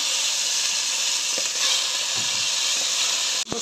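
Whole chicken dropped into hot ghee in a home kitchen, giving a dense, continuous sizzle and hiss with small pops and stirring clicks, ending in a short clatter, no talking.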